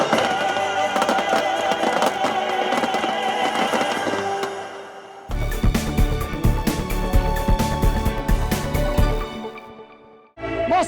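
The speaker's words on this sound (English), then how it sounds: "like all these amazing fireworks above us now" Fireworks burst above a Moscow fireworks festival, a dense run of crackling and booming explosions that fades briefly, returns with heavy close thumps and sharp crackle, then drops away before a final burst.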